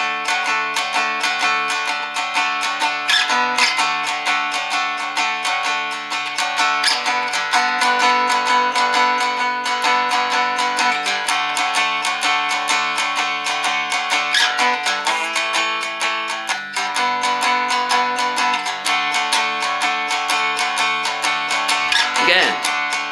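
A 12-bar blues progression plays on a single instrument, with steady rhythmic chords and shifting bass notes moving through the changes, clear and sustained with no talking.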